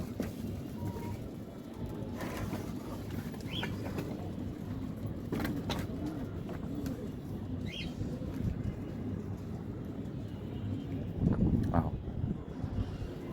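Pigeons land on a rooftop loft in Imbaba, giving faint, scattered coos and soft wing sounds over a constant low hum of distant road traffic and wind.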